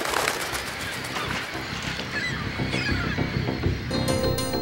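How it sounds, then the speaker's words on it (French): A seabird colony with puffins on small islands off Iceland fills the air with dense, overlapping honking and squawking calls, near and loud, continuing without pause. "D'innombrables petites îles sont peuplées de millions d'oiseaux, parmi lesquels les macareux."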